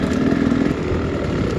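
A dirt bike engine drones loud and close while riding a new trail over log debris, a steady revving buzz over a short moment with no talk.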